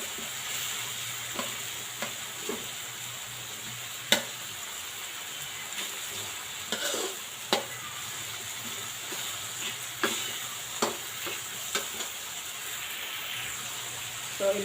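Tomatoes being crushed as they fry in a pan for a Bicolano fish escabeche, with a steady sizzle under scattered scraping and stirring knocks.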